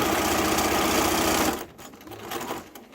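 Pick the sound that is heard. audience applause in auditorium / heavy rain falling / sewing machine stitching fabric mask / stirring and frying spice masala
sewing machine stitching fabric mask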